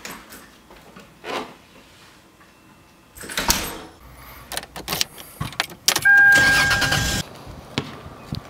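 A car engine starts and runs in short bursts, with clunks like a door or drawer and a jangle of keys close by in the cabin. No one speaks.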